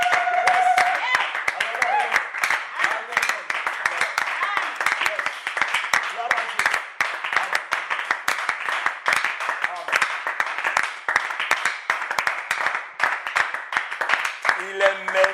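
A congregation at an online prayer and intercession service claps loudly and continuously, a thick burst of many hands, while voices call out and speak over the applause throughout.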